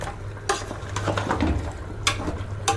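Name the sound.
stirring tempering (bagar) into curry in a pan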